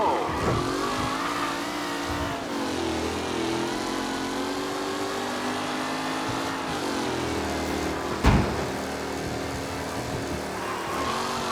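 Race cars in 1930s-style racing in Mafia Definitive Edition, engines droning and revving steadily together, with a shifting pitch and a brief bump near the end; loud and sustained, no talk.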